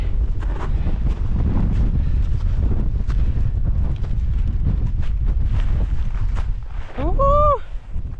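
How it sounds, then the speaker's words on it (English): Strong wind buffets the microphone during a cold mountain climb at minus fifteen degrees, a low rumbling roar with gusts, close and continuous, with a brief vocal exclamation near the end. "Ooh, it's getting windy."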